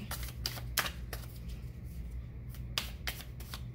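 Cards being shuffled in quick riffling bursts, several short crisp flurries separated by pauses, close up over a low steady hum.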